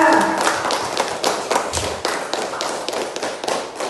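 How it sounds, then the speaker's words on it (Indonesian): Students in a classroom clap for a group that has just presented. Many quick, overlapping hand claps form a brisk, fairly loud patter that runs steadily for four seconds. "Ya, tepuk tangan untuk kelompok 2."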